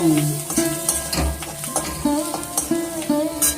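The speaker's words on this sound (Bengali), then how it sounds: "লঙ্কা গুঁড়ো কাঁচা লঙ্কা কুচি হলুদ জিরে গুঁড়ো নুন দিয়ে এটা একটুখানি নাড়ব" Fish roe being stirred in a pan with chili powder, chopped green chili, turmeric, cumin and salt: a spoon scrapes and clinks against the pan in an uneven rhythm over a soft sizzle.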